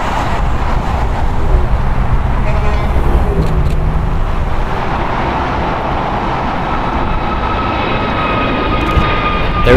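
An Airbus A350-900 airliner arriving at LAX roars past close and loud, its engine rumble and whine sustained then gradually easing as it rolls on.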